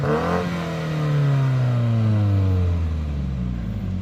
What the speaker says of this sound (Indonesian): untuk knalpotnya, yuk langsung kita dengerin